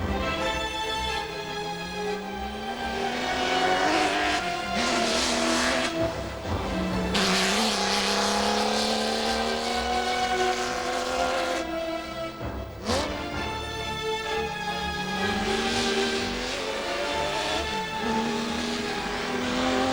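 A rare 1960s racing car engine revs hard, climbing through the gears with rising howls, brief drops between shifts and tire squeal, loud and close with no talking.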